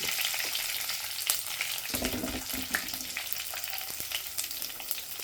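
Curry leaves, slit green chillies and garlic fry in hot oil in a pan for a fish dish, a loud, constant crackling sizzle with occasional stirring bursts.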